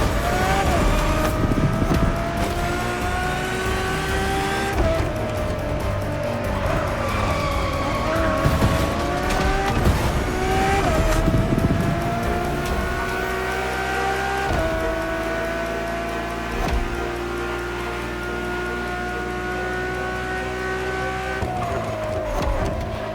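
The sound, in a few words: Ferrari supercar engine driving in video game The Crew Motorfest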